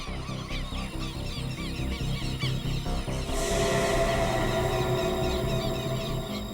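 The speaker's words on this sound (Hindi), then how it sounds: "पक्षियों की आवाज सुन रहे हैं आप?" Birds call in a forest, a dense chorus of honking, goose-like cries that rises louder and busier halfway through, continuous and close with no talking.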